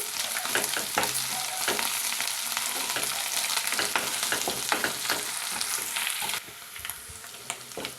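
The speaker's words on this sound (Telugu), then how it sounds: "దంచిన అల్లం వెల్లుల్లి పేస్ట్ పచ్చివాసన పోయేంత వరకు కూడా వేయించాలి" Crushed ginger garlic paste frying in a pan: dense, steady sizzling and crackling up close, broken by scraping stirring strokes, then dropping to a quieter sizzle near the end, with no talking.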